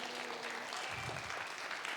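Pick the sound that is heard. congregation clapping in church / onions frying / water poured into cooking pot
congregation clapping in church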